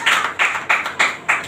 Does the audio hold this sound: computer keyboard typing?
no